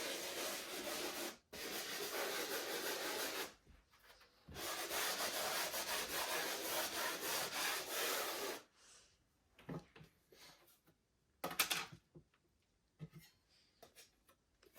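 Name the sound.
sponge sander scuffing dry drywall compound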